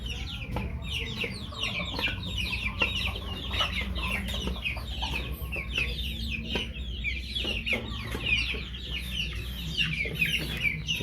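Chickens on a farm cluck and chatter busily and without pause, with many overlapping calls close by over a low background hum.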